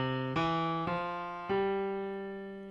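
Slow left-hand piano notes playing the Saints melody, four sustained tones struck one after another, each ringing and fading before the next.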